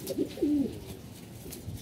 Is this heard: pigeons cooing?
yes